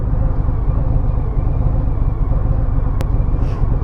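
A 2021 Harley-Davidson Sport Glide with stock exhaust idles close by, a loud, steady low rumble with one sharp click partway through.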